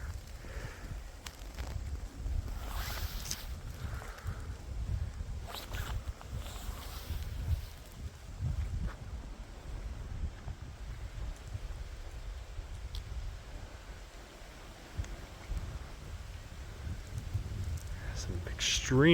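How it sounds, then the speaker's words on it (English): Strong wind during a historic lake effect blizzard, gusty low rumbling buffets against the microphone that rise and fall, heard beneath people talking. "wind is picking up now"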